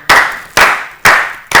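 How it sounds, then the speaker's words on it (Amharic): Audience clapping in short bursts for a prize-winning contestant at a children's Easter holiday competition show, four loud swells of applause in quick succession with no talk over them. "አጨብጭቡላት በደንብ አርጋችሁ"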